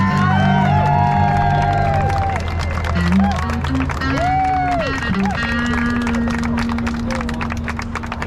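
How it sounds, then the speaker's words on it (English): A rally crowd at a Moshannon Valley immigration detention protest claps and cheers loudly, with whoops and raised voices mixing into a dense, close roar that carries on without letting up. "And give them a big round of applause,"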